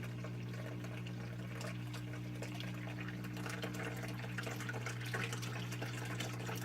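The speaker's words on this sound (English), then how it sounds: "the water current got a little stronger there" Water current rushing steadily through a gold paydirt sluice, a continuous gentle trickle and splash with a low steady pump hum beneath, fairly quiet and close.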